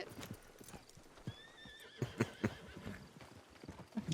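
A horse in a ranch role-play video game clip-clops with irregular hoofbeats and whinnies once, fairly faint and close, without speech.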